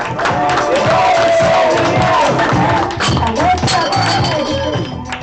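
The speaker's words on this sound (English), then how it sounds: "Start clapping right now for Anyi Malik!" Comedy club audience claps and cheers loudly for a comedian coming on stage, a dense crowd roar with whoops and hand claps sustained throughout, fading slightly near the end.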